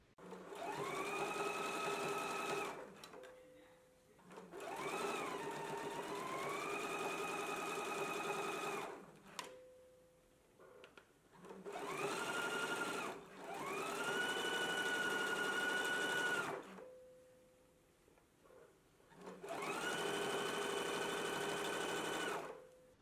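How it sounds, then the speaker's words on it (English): A sewing machine runs in four long bursts of steady whirring and stitching, understitching close along a garment seam, each run lasting a few seconds with short quiet pauses between, close and alone without talk. "we're going to do understitching really close to this seam."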